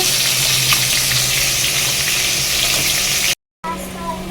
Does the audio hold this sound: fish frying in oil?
yes